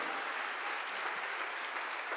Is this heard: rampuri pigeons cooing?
no